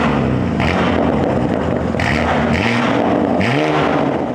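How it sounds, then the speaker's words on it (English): A BMW M2 with the S58 engine and a single mid-pipe exhaust, a loud, deep continuous drone with surging revs and brief pitch sweeps, close and steady with no talking. "The exhaust sound is definitely much deeper sounding than the previous setup we had on there."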